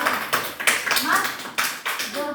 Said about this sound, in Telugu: క్లాప్స్ కొట్టండి ఒకసారి ఏనుగు చీమలకు అన్ని జంతువులకి